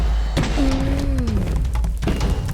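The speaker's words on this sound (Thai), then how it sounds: "เตรียมระเบิดเตียงเรียบร้อยครับ" A bed explodes near the dragon in Minecraft, with two short, heavy thuds about one and a half seconds apart and a brief tonal whine between them.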